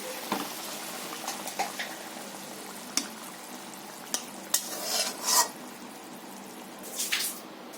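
Mustard hilsa curry being tipped out of a pan after the gas is switched off: quiet scattered scrapes and clinks of utensil on pan, with a few louder knocks and a short wet slide near the end.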